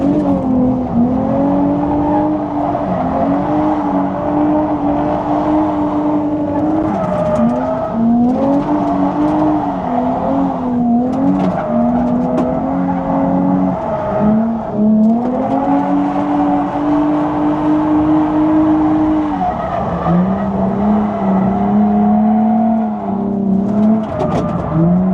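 A rebuilt Nissan 350Z drifts on a private track day. Its engine howls loud and close, the pitch rising and falling with each rev, and tire squeal runs underneath.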